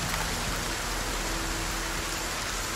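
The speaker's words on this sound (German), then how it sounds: "Schon lange nicht mehr so geregnet" Rain in Force of Nature II, a steady dense hiss of heavy rainfall, even and unbroken, with a faint low rumble beneath.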